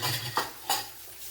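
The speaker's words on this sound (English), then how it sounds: "One final mix to make sure there's nothing settling in the bottom, and in. Sizzle." Metal utensils clink against a pan twice, with a soft hiss of beaten omelette egg starting to sizzle underneath, quiet and close.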